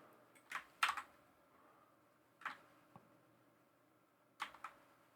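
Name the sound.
typing on computer keyboard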